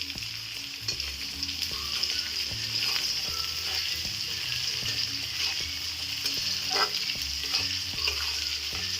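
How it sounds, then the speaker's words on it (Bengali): Chopped green chillies sizzle and fry in a pan of tarka dal tempering, a bright continuous crackle with intermittent scraping stirs and small pops, close and steady throughout. "কাঁচা লঙ্কা কুচিটা দিয়ে দিচ্ছি"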